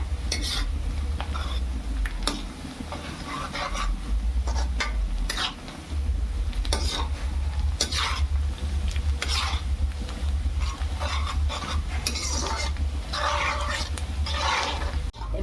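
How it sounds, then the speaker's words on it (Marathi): Onions being stirred in a pan for tuna biryani, with repeated scraping, clinking spoon strokes over a steady low frying hiss, close and fairly loud throughout, no talking. "असं ढवळून ढवळून घ्यायचं म्हणजे तसं कांदा आपला लागत नाही व्यवस्थित चाऱ्या बाजूनी"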